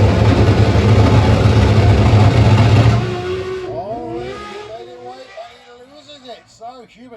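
A front-wheel-drive doorslammer drag car roars loudly at a European drag racing eliminations event, the engine noise fading after a few seconds as track commentary takes over.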